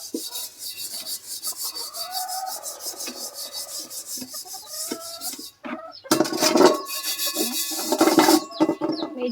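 Vigorous scrubbing of a blackened frying pan during dishwashing, a steady abrasive rasping with repeated back-and-forth strokes, close and fairly loud, briefly pausing before resuming harder with a brighter metallic scraping edge; no talking.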